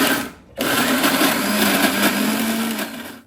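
A kitchen mixer grinder whirs steadily as it purees onion, tomato, coriander, garlic and ginger into curry masala, a loud continuous motor whine starting abruptly after a short pause and running without talk.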